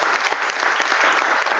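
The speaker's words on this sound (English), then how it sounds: "The round of applause for" An audience at an expert panel breaks into loud, dense applause for a panelist, a continuous wash of clapping that holds steady throughout.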